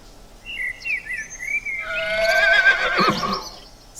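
A zebra calls alone, starting with a few high, thin whinnying squeals and then breaking into a louder, harsher braying burst that peaks near the end before trailing off.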